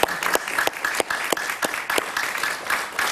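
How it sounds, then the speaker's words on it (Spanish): Studio audience clapping on a Spanish-language talk show, steady close applause with distinct sharp claps throughout about three seconds, no voices over it. "Un aplauso para ella,"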